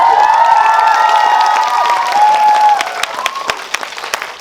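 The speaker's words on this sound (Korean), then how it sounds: "박수 한번 부탁드릴게요" Cinema audience at a film talk event for the movie The King in Lotte Cinema World Tower claps loudly with cheers and whoops, the applause thinning into scattered individual claps toward the end.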